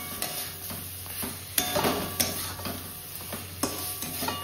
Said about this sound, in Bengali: দেখো মশলাটা কষে গেছে আর তেলও ছেড়ে দিয়েছে। এবার মাছগুলোকে দিয়ে দেবো।